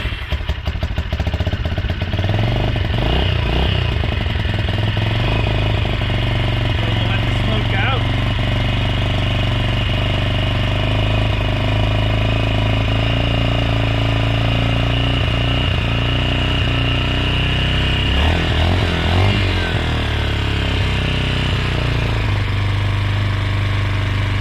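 Carbureted motorcycle with a Suzuki clone engine runs steadily with a loud, rattling, clattering idle close by, continuing throughout.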